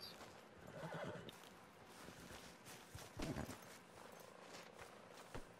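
A horse whinnies in Red Dead Redemption 2, a shaky neigh rising and falling, alongside soft hoof clops and faint movement sounds.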